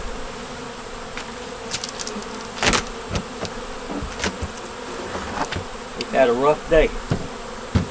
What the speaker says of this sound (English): Bees are coming home now for the afternoon.